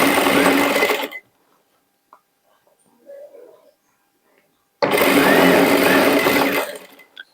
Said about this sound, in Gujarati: ધીમે ધીમે પટ્ટીને ફોલ્ડ કરતા જાઓ અને સિલાઈ લગાવતા જાઓ.